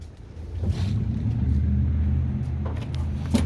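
A 1941 Cadillac Model 6227 Deluxe Coupe engine idling with a low, smooth, steady rumble close by, with light wind noise across the microphone.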